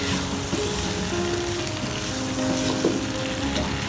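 Half a kilo of potatoes fries with spices in a pan for aloo palak, making a dense, even sizzle, close and continuous, with light crackles throughout.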